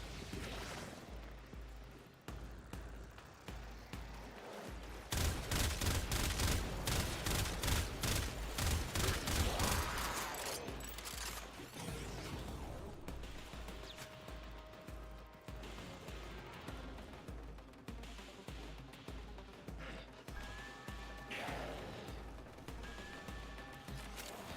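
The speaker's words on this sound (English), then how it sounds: "A laser shotgun of some kind?" A laser shotgun in the Warframe video game fires in a rapid burst of sharp, close blasts, followed by scattered heavier shots and impacts over a rumbling low background.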